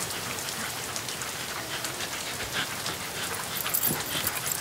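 Steady rain patters on a surface, a continuous hiss of drops with a faint dog whimper near the end.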